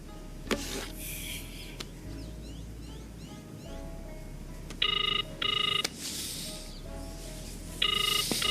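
Telephone ringtone chirping in short repeated electronic bursts, two close together then another a few seconds later, over a steady ambient room background with faint bird-like chirps; no speech.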